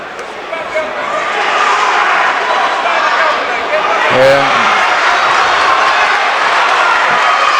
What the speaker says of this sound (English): the roar of the crowd is up